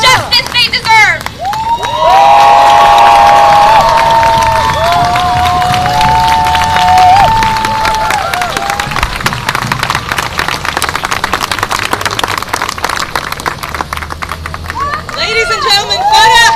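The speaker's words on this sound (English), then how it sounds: "give her another round of applause." A protest rally crowd in Providence cheers and claps for a young speaker, loud shouts and whoops with bright whistle-like tones rising over a continuous wash of applause and voices.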